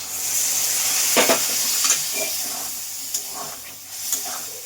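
Water poured into a hot pan for a Bengali dish hisses and sizzles steadily throughout, with a few clinks of stirring over the continuous fry noise, fairly close and with no talking.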